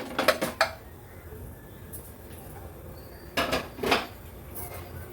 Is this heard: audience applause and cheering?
no